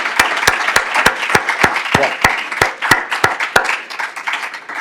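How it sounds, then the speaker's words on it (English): A small audience at a panel event claps in a final round of applause, with sharp, distinct hand claps spaced a beat apart over a softer background of scattered clapping, close and steady for several seconds. "we can have a final round of applause for everyone"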